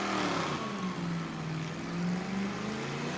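A car in a burnout contest at New Smyrna holds a loud, strained engine roar with wavering revs and tyre squeal, steady and close throughout.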